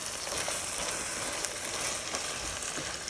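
Sliced bitter gourd (ampalaya) fries in a pan over medium heat, giving a steady, close sizzle with fine crackling pops throughout and no voices.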